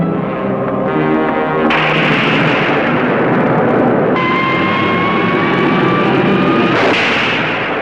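Torpedo and Sage missile explosions from a science-fiction battle film, heard as a loud continuous roar with booming low rumble, whooshing surges and rising tonal whines layered over dense noise throughout.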